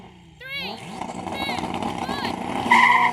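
A 3000 hp Nissan Patrol launches in a drag race against a Ferrari SF90, engine roaring up steadily louder over about three seconds, with high whining tones and tyre chirps riding on top and crowd chatter underneath.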